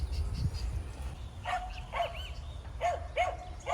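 Dogs bark in the distance at the Botanical Gardens in Guyana, several short barks arriving in scattered pairs over outdoor wind and background noise.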